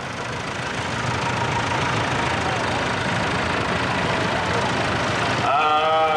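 A 1963 Fordson Super Major tractor of 115 horsepower idles at a steam rally, a steady broadband engine rumble running throughout, with a louder burst near the end.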